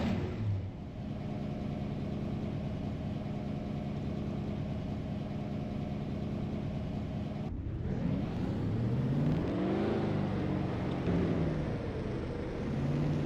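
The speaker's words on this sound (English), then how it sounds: "Drivers, start your engines!" Race car engines from the NASCAR Racing 2003 video game, a steady idle drone that jumps into a louder, rising rev with a shifting engine tone, heard alone without talk.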